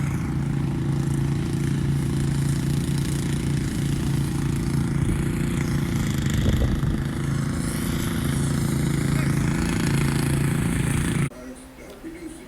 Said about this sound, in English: This tractor was made by a fellow I know. He's got a diesel engine in it.